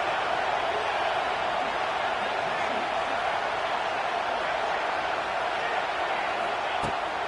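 Dense, steady stadium crowd roar at an American football game filling the whole stretch, a broad wash of noise with no distinct voices standing out.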